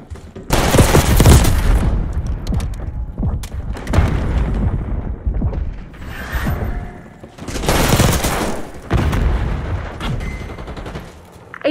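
Bursts of video game gunfire and booming blasts in a multiplayer shooter match, loud repeated volleys coming in clusters with short lulls between them.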